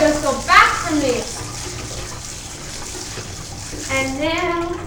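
Tap water running while clothes are rinsed and squeezed by hand in a hotel room sink, a steady close splashing flow with brief voices over it at the start and end.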